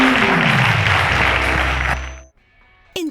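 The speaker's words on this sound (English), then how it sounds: "A round of applause to them." Dense applause from a studio audience cheering the winning students in the final of a school quiz show, loud and steady for about two seconds before cutting to silence, followed by a single sharp tap.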